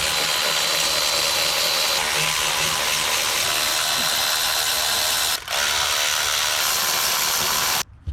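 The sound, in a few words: tool removing LS intake manifold bolts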